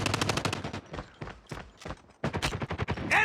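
Rapid bursts of automatic gunfire from a Call of Duty match, loud and close, rattling in quick clusters with short gaps and a sharp burst at the end.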